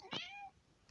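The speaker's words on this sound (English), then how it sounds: "This is my cat." A pet cat gives a single clear meow, close and fairly loud, with a rising-then-falling tone lasting about half a second, followed by quiet room tone and a faint soft sound at the end.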